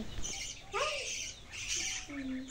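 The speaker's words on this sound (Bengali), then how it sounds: "আর পাখিগুলো সবসময় কিচিরমিচির করতেই থাকে" Pet birds chirping and squawking in a cage, short rising and falling calls repeating over a steady rain-like hiss, fairly close.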